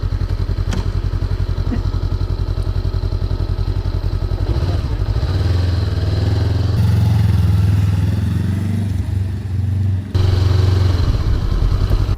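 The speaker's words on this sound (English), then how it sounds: "we're test riding the CB500X" A Honda CB500X motorcycle on a test ride, its engine a loud, close, continuous drone that shifts in pitch as it changes gear and revs, with no voices.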